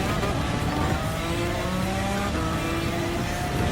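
Suzuki V6 Escudo Pikes Special '98 race car engine in Gran Turismo 7 droning steadily at high revs, with rising harmonic tones as it accelerates, loud and continuous throughout.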